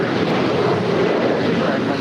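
A Boeing 737-900ER airliner departs LAX with a dense, steady roar, loud and unbroken throughout, mixed with a windy rush.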